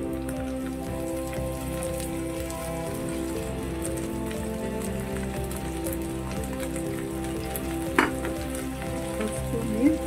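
Fiddlehead fern greens (dheki shak) fry in hot oil in a pan, giving a steady, dense, close sizzle throughout with a couple of brief clatters near the end.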